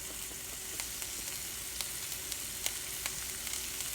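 Steak-Umm sliced meat sautés in a hot pan with a steady, faint sizzle and scattered small pops and crackles throughout.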